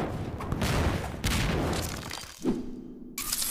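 Rocket explosions in an animation come as a burst of sharp cracks and shattering blasts, then a brief pause and another impact, loud and up close.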